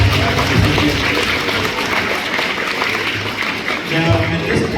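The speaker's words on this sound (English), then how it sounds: "Give everyone a round of applause." Applause from a high school after-prom audience at a mentalist's show: a steady, dense wash of clapping throughout, loud and close, with crowd noise underneath.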